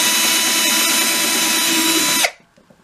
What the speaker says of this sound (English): put pressure down on this one and drill the pilot hole here